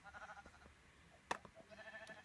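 Sheep bleating in Minecraft, a few short, faint bleats spread across the moment with a brief click partway through, no talking.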